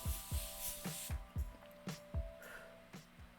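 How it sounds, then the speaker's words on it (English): Morphe Setting Mist is sprayed onto a face in a rapid series of about ten short, close hissing spritzes, each a quick burst of fine mist. "I'm using Morphe Setting Mist, and I'm just going to spray it all over my face."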